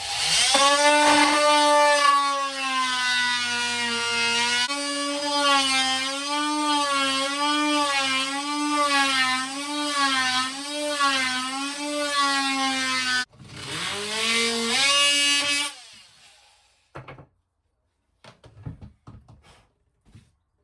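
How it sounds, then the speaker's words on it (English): Oscillating multi-tool cutting into wood in a narrowboat galley, a loud high-pitched buzzing whine with wavering pitch as it bites, running about thirteen seconds, then a shorter burst before falling quiet with faint handling noises. "So just go in with the multi-tool."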